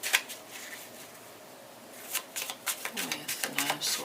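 Tarot cards being shuffled by hand in several quick riffling bursts, near and crisp, growing busier toward the end, with soft handling noises and quiet background hiss between them.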